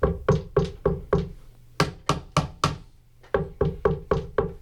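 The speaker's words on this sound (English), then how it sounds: "I'm just knocking really lightly on the side, that means you have an open seam." Knuckle knocking lightly on the side of a string instrument with an open seam, a series of crisp, close taps in quick groups of five with brief pauses and a buzzy hollow ring, no talking.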